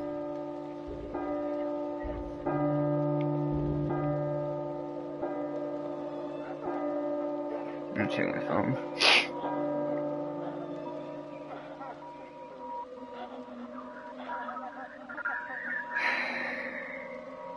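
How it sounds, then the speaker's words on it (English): A church-like bell tolls repeatedly in the PT horror video game, its steady strikes ringing under quiet background sounds while a person talks nearby. "Bell's ringing."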